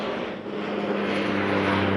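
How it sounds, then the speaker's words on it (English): A steady, loud drone of aircraft engines passing overhead, a constant rumbling roar with no pauses. "Yep, airplanes."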